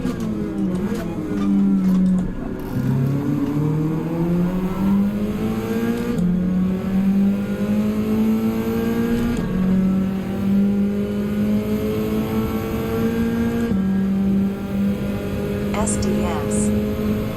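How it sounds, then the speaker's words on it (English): A race car engine revs in Gran Turismo 7, a steady loud drone holding pitch with repeated rises and dips through the whole stretch, while a voice talks over it. "he's revving that thing"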